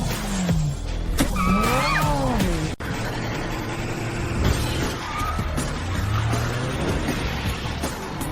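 A car driven fast like a race, with tires squealing in pitched swoops, a sharp impact-like break, then steady engine and road roar close by.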